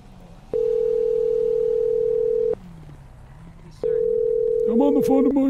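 A telephone tone sounds steadily on a call in a roleplay game, cuts off, then returns, before a voice speaks over it at the end.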